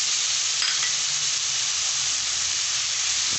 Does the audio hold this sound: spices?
yes